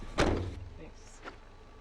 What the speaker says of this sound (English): Do you wanna shut the door?